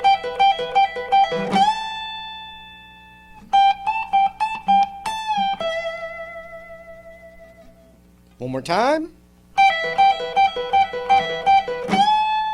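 Electric guitar lick in E, played in several clean repeated phrases with bends and sustained notes, separated by short pauses and a quick slide, close and clear; someone speaks briefly in the middle.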